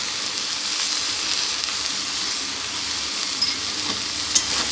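Tomato, salt and turmeric frying in a pan while being stirred, a steady close sizzle with a few scraping clinks near the end.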